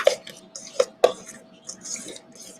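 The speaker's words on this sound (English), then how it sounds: "Just give it a nice stir." Spoon stirring and folding ingredients in a bowl, a few close clinks and scrapes against the bowl in an uneven rhythm, with faint soft scraping between.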